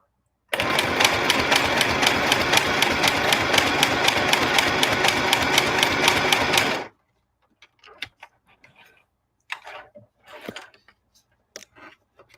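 A sewing machine runs a zigzag stitch at a steady, fast rhythmic clatter for about six seconds, then stops, leaving faint handling clicks and rustles.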